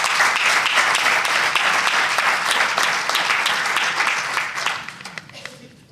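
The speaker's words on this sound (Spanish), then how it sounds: "Aplaudimos a Maca." Audience applause for a reader at a book presentation, a dense sustained burst of many hands clapping that stays loud for about four seconds and then thins and fades at the end.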